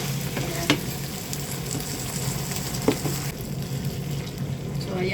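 Sardines fry in a pan for a bottle gourd (upo) dish with a steady moderate sizzle and a couple of sharp utensil clinks against the pan, close with no talk.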